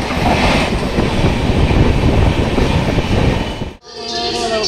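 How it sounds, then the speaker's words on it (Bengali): The 12822 Dhauli Express pulls out of Cuttack station on the Puri to Shalimar route, a loud continuous rumble and rattle of coaches up close that drops suddenly near the end. "এই কটক স্টেশন ছেড়ে বেরোচ্ছে ট্রেন"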